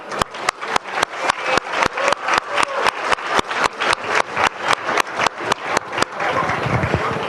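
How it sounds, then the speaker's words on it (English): A high school audience at a Black History Month event claps in a steady rhythm of sharp, evenly spaced beats, then breaks into looser, fuller applause near the end. "So I'll applaud every class."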